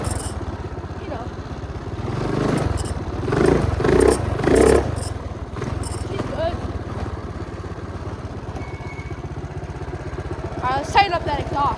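A built 212cc minibike engine runs at a steady, rough idle-to-mid drone, close by. Someone speaks briefly over the engine.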